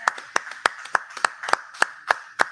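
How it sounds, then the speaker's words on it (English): A small group claps for a performer at a casual cigar-talk gathering, about a dozen sharp hand claps in a steady, slightly uneven rhythm, close and moderately loud with no talking over them. "Let's have a round of applause for Justin over here."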